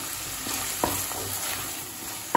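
Tomato and cashews being sautéed in a pan for Tamil egg curry, with a low steady sizzle and a few sharp clinks of a spoon stirring against the pan.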